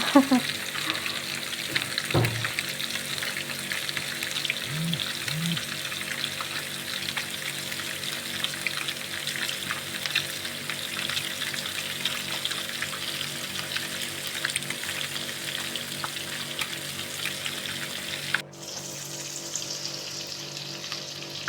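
Eggplant frying in oil for a Marrakech-style tajine, a steady moderate sizzle with a few clanks of utensils early on, continuous and unbroken with no clear talking.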